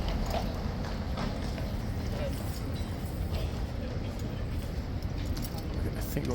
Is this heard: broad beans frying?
no